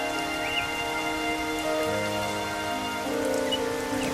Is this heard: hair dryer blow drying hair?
no